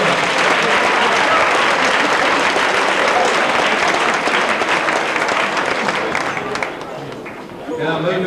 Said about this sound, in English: Let's give another round of applause because they're beginners